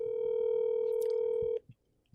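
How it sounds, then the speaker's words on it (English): An outgoing telephone call, a steady electronic ringback tone holding loud and even for about a second and a half before cutting off abruptly into near silence. "He'll pick up second ring."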